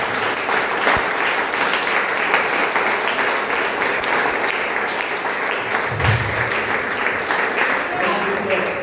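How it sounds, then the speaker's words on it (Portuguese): A church congregation at a retreat applauds loudly for Jesus, a dense, continuous roar of clapping throughout, with voices mixed in underneath. "as palmas bem fortes para Jesus"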